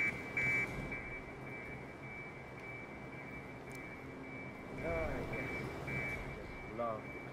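Forklift reverse alarm in the game Hitman 3 (Mendoza level), a steady high electronic tone sounding throughout, with voices talking and game ambience underneath.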